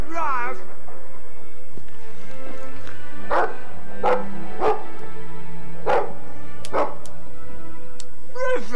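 Mabari war dog barking in Dragon Age 2: a series of separate barks and yips spaced about a second apart, with a short whine at the start and end, heard alone over a quiet game background.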